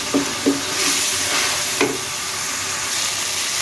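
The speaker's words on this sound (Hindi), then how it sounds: "अब इस तमाम मसाले को हम ठीक अच्छी तरह से भून लेंगे जब तक मसाले में से ऑयल बाहर नहीं आ जाता" Spice masala fries in oil for a turnip and pea curry, a steady broadband sizzle with a few soft stirring scrapes near the start and around the middle, close and alone.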